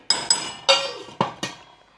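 A metal lid clatters onto a pot of dry chickpeas cooking with spices over low gas, giving five sharp clinks and knocks in quick succession, close and fairly loud.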